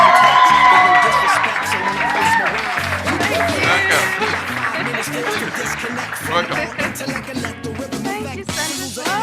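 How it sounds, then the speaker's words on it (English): An audience rises to applaud and cheer a guest at a Startup Grind Cape Town business event, a dense wash of clapping with whoops and shouts that holds strong and close for several seconds. "Let's a big round of applause to Antoinette Prophy."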